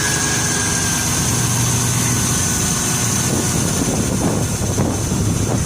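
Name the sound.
van engine idling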